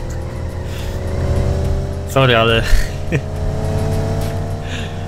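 Cars in a racing video game drone with a sustained, steady engine whine at high speed, while someone talks briefly over the game sound.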